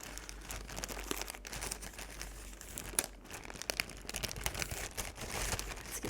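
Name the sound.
crinkling a Ziploc bag of Q-tips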